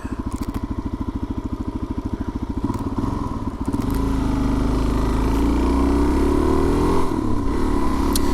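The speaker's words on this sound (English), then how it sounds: "And we'll wait for this truck to go by." A truck passes by on a road: a motorcycle's idle putters rhythmically in the foreground, then a heavier engine rumble swells and holds as the vehicle goes past close by, with no talking.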